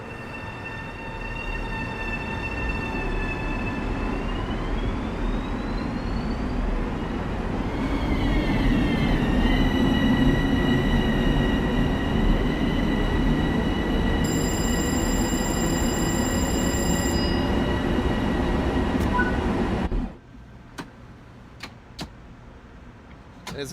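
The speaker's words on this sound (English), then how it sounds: "There's a train behind it as well." A train passes in the simulator game Train Sim World 3 with a continuous rumble of wheels on rails and rising metallic squeal tones that build to a loud peak, then cut off abruptly into quiet.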